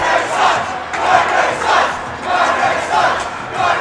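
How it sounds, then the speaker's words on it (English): Hockey fans crowd a rink at a Greenfield Green Wave versus Gardner Wildcats high school varsity state playoff game, chanting in rhythmic swells with cheering. The sound is loud and steady, a dense roar with regular pulses of shouting. "The Green Wave fans are having their voices heard."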